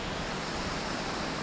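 A waterfall on the Manaslu Circuit trek rushes in a steady, broadband wash of falling water, constant and fairly faint, with no voices.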